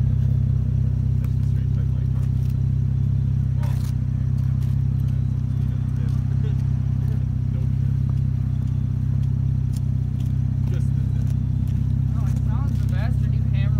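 Straight-piped Cadillac CTS Coupe exhaust idling with a loud, steady low rumble throughout, close by, with no distinct rev rises; faint clatter and background noise sit above it.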